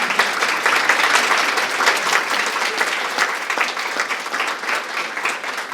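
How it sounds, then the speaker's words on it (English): An audience applauds panelists after a talk on Mayan culture and community, a steady wash of many hands clapping at once that holds for several seconds and eases slightly toward the end. "let's give them a round of applause for our panelists"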